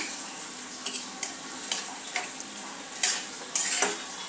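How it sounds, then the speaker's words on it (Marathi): Carrot halwa with khoa is sautéed on a low flame, a soft steady sizzle broken by repeated light scrapes and taps of a spoon stirring in the pan, close by. "आपल्याला लो फ्लेमवरच परतायचा आहे, नाहीतर तो करपेल"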